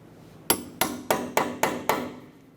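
A hammer strikes a punch to open the staked dimple on the axle nut of a 2008-2012 Honda Accord, six sharp metallic blows in a quick, steady rhythm, close and loud with a short ring after each.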